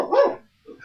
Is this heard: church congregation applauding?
no